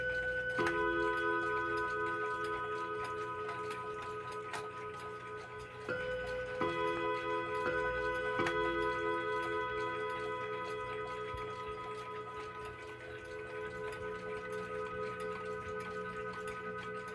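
A 1960s mid-century Junghans wall clock ticks in a slow, even rhythm, each tick clear and close with a faint metallic ring, while a few sharper clicks stand out over a quiet room.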